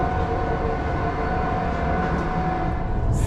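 Cabin noise aboard a high-speed train in Turkey, a loud, steady rumble and rush of wheels and air with a faint hum, holding constant throughout with no voices.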